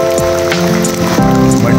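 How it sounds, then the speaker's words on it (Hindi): Steady heavy rain drums on a surface in Abbottabad, with dense patter, some tonal noise mixed in, and no voices. "बहुत तेज मूसलाधार बारिश हैदराबाद मंडिया में इस वक्त"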